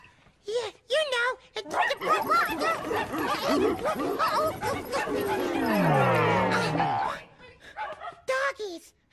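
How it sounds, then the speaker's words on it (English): Several dogs bark, yip and whimper excitedly close by in a busy, overlapping chorus, with a sliding boing-like tone and a voice chiming in. "Everyone's barking."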